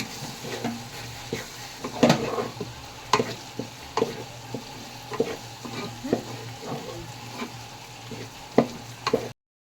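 Telangana-style fish pulusu mixture stirred in a pan, a low simmering sizzle with regular scraping and clinking of the spoon against metal, close and rhythmic, with no one speaking.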